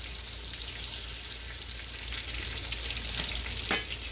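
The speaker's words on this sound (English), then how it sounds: "Now be careful when you flip them because they do splatter a bit." Slices of green tomato fry in hot oil with a soft, steady crackle and sizzle, and near the end a single sharper pop of splattering stands out.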